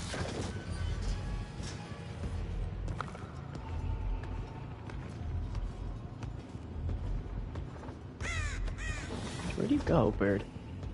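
A crow in Dead by Daylight caws in a short burst of harsh, rising calls near the end, heard over a dense rumbling game ambience and muffled footfalls.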